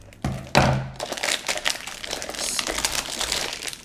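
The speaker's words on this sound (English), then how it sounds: "Ooh, that's a lot of crinkling." Plastic packaging around a costly product crinkles and crackles as it is handled, with a sharp thunk near the start followed by continuous irregular rustling bursts, close to the mic.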